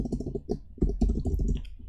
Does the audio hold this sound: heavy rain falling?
no